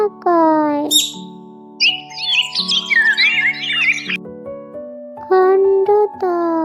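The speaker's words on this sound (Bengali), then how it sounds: "অন্তস্থ অতে ময়না, ময়না পাখি" A myna bird squawks and chirps in a run of harsh, warbling calls in the middle, framed by short whistle-like tones, close and fairly loud.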